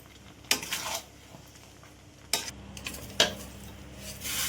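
Mango pieces stirred in melted jaggery in a wok, several separate scraping strokes of a spoon against the metal over a faint background hiss, fairly quiet and close.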